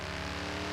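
A car engine in the video game Forza Horizon 3 holds a steady, loud, full-bodied drone with a rough low rumble throughout a brief moment, with no voices.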